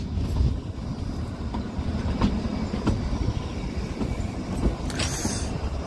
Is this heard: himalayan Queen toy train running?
yes